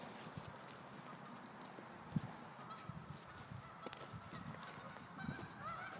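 Geese honk repeatedly at a Doberman outdoors, a steady stream of calls over a busy, noisy background with one sharper honk standing out.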